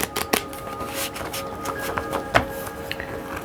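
A deck of tarot cards is shuffled by hand, giving soft papery riffles and scattered taps and flicks at close range, irregular and fairly quiet.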